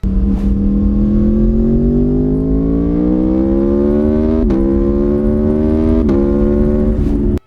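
A 2021 high-powered naked motorcycle engine revs steadily and loud, its pitch climbing as it pulls through gears with two quick shift breaks near the end, heard alone.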